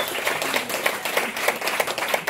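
Audience applause at an outdoor 7080 concert by Seokchon Lake, a steady patter of many hands clapping together with no voices over it.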